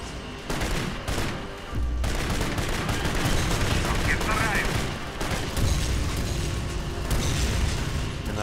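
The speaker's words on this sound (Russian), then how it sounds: "Минометы стреляют." Mortars fire in the shooter game Kane & Lynch: Dead Men, producing dense rumbling booms and gunfire bursts that roll on continuously amid battle noise.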